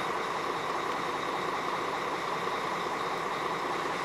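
A KamAZ 5490 truck engine idles at about 600 rpm with a nearly steady, even hum, a continuous low drone with no voices.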